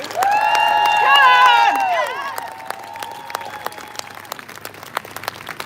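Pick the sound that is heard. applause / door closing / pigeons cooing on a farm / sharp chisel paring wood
applause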